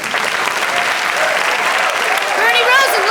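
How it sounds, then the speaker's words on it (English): A radio comedy studio audience bursts into loud, continuous applause, with voices mixed into the clapping and some cheering near the end. "give him a round of applause."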